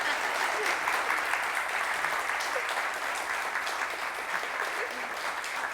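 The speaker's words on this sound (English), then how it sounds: "please give me a really warm round of applause for Ria Persad Carlo." Audience applause at a startup networking event in Tampa, a dense steady wash of clapping from a crowd, fairly close and sustained for several seconds, with no speech over it.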